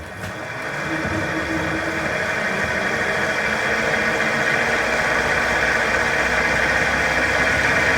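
A wood lathe spins a large vase blank at about 1000 RPM, a steady, droning motor hum with a constant whine that ramps up at the start and then holds evenly, close and without talk.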